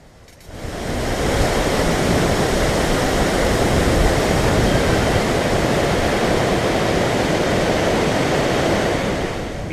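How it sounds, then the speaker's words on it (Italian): Li Phi waterfall in Laos, a powerful roaring rush of falling water that swells in within the first second and then holds steady, loud and broadband, with no voices. "Vi do il benvenuto alla cascata Lipi, la cascata del diavolo."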